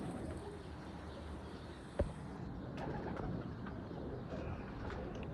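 An old Taddy pigeon coos softly amid a steady wash of outdoor background noise, with a sharp click near the start and faint chirps scattered throughout.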